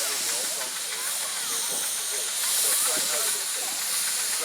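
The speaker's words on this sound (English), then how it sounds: "When you see an engine letting off steam like that from the top, that's the safety valve." A steady, loud hiss of steam escaping from a steam engine's safety valve at a vintage steam show runs throughout, with faint mechanical chatter and background voices underneath.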